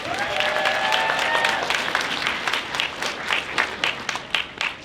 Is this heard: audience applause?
yes